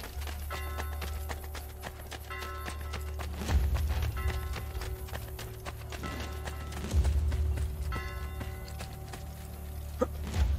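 Horse hooves clop rhythmically in the video game Assassin's Creed Brotherhood, with heavier thuds at intervals and steady game tones behind them. No one speaks.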